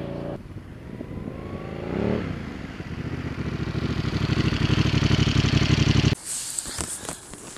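Aprilia Caponord 1200 twin-cylinder motorcycle engine running close by, a steady rough throb that swells and climbs for several seconds before cutting off abruptly into a brief hiss and clatter.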